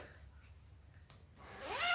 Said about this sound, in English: this is also has an inner zipper, an inner pocket with a zipper